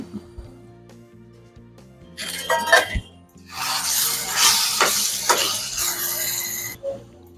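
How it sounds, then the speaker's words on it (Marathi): Steamed drumstick pods are tossed in oil with masala in a pan, giving bursts of sizzling and scraping stirs in two main spells, with a low hum underneath and quieter gaps between, close by. "एखाद मिनिटभर असे परतून घ्यायचे"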